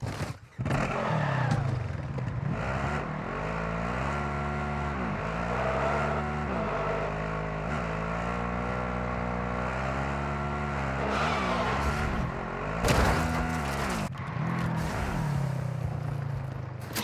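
A vehicle engine in the Call of Duty Warzone DMZ game drones loud and close, rising and falling in pitch as it revs and shifts while driving, with a brief harsh clatter near the end.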